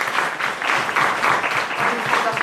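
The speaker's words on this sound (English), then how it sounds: "Can I please have a round of applause" An audience at a Somali Week Festival documentary screening claps in sustained applause, a dense steady patter from a crowd that swells slightly and keeps going throughout.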